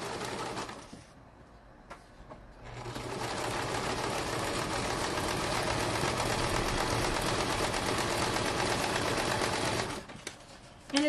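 A sewing machine stitches paper for a junk journal, a steady mechanical whirring that runs for several seconds after a short pause, then stops.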